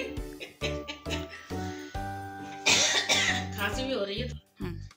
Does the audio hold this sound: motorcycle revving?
no